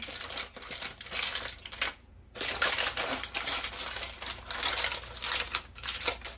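Aluminum foil being folded and crimped shut around a BBQ chicken foil pack: close, loud bursts of crinkling and crushing in quick handfuls, with one brief pause midway.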